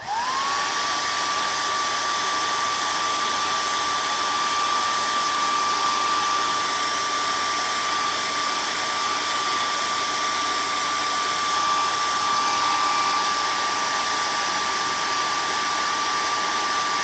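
A hair dryer blows steadily and loudly at close range to dry a freshly painted fishing bait with ice blue dots, its high whining airflow tone rising as it starts and then holding constant throughout, with no voices.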